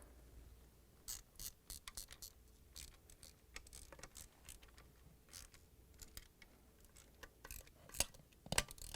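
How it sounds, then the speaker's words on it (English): A socket wrench ratchet tightens 5/16-inch screws on a Whirlpool/KitchenAid/Maytag washer transmission, making quiet, close bursts of rapid clicking in irregular runs, with short pauses between strokes and no talking. "And now we're going to tighten it with 5/16 socket wrench."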